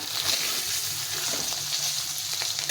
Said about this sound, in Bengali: তো আমি হালকা করে একটু ভেজে নেব।